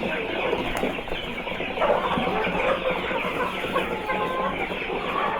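Improved kienyeji chickens cluck steadily around a farm, with a rooster-like call standing out among many overlapping hens, continuous and fairly close throughout.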